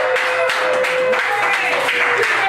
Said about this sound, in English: Tarun Shetty, let's give him a round of applause.